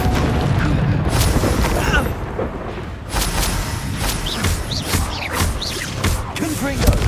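Explosive spell blasts from the Hogwarts Legacy video game hit with deep, rumbling booms that keep going nearly without a break, mixed with crackling debris and short cries from a voice.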